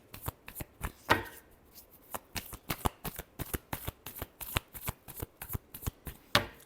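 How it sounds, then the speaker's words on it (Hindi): Tarot cards are shuffled by hand up close, a quick irregular run of crisp riffling flicks and taps repeating for several seconds with no voices. "Last shuffle."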